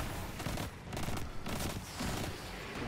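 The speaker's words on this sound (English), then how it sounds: "Many explosions." Dense gunfire and explosions from a Destiny 2 firefight, with full-auto weapons, roar continuously and loudly throughout, sharp bursts overlapping into a steady barrage with no voices over it.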